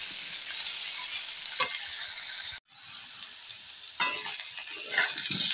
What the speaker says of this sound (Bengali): পেঁয়াজ কুচিটা দিয়ে এইভাবে নাড়তে থাকবো, একটু লাল হয়ে আসবে ততক্ষণ পর্যন্ত আমি নাড়তে থাকবো।